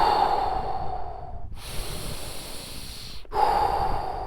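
Slow, deep diaphragmatic breaths, calm and close, one long hissing exhale followed by an inhale and another exhale, with short pauses between them and no talking.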